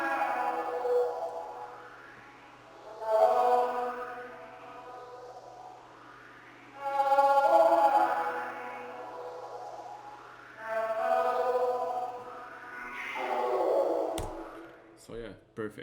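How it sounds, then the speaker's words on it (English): Vocal shots processed with heavy reverb and echo for warm organic electronica, a few swelling phrases spaced several seconds apart, each trailing into long smeared tails. "So together with the effects, the vocal shots or vocal samples sounds like this."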